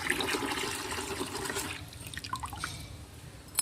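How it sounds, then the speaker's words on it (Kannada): A tap runs water into a tub to fill it about halfway for washing coriander, a steady rushing splash that cuts off as the tap closes, followed by faint drips. "ಇದ್ರೊಳಗೆ ನೀರು ಬಿಡಾಕತ್ತೀನಿ ಒಂದು ಅರ್ಧದಷ್ಟು ನೀರು ಬಿಡ್ತೀನಿ"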